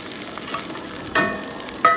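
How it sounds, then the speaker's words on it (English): Hot burning oil in a pan used to clean dishes at a dirt-road campsite gives a soft, steady sizzle, with two short sharper hisses near the end. "Burning oil is a super efficient way to clean things."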